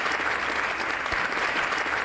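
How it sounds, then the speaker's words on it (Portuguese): A congregation applauds vigorously at a Saturday morning church service, a thick, continuous wash of clapping hands with no pauses. "Isso, aplauda mais forte ainda, porque é para o nosso Deus."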